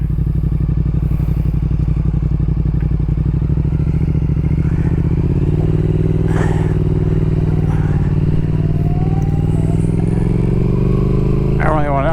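A Triumph Speed Twin motorcycle fitted with a Tec exhaust rumbles steadily and loudly while riding, a deep even throb that climbs gradually in pitch as it accelerates, with some wind and rattle on top.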